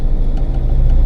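A manual car's engine runs with a steady, close, low rumble as gas is added while the car starts moving off slowly, holding an even level with no voices over it.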